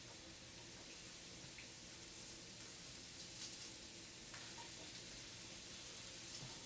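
Sliced onions sautéing in a pan for eggplant parmesan, a soft steady sizzle with faint stirring clicks, no voices.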